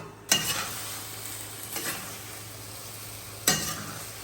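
Tomatoes go into frying chicken jalfrezi and get stirred, a low steady sizzle broken by three sharp stirring scrapes at intervals, close and fairly loud.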